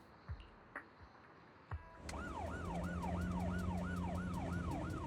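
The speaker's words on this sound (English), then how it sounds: "Siren blazing." An emergency siren wails in the Zenless Zone Zero video game, a rising-and-falling electronic sweep repeating steadily over a low engine drone after a few soft thumps and pings.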